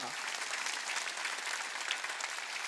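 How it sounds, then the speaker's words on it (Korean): A church congregation applauds during a Wednesday worship service, a steady dense clapping that holds for the whole stretch without a break. "박수쳐 박수쳐."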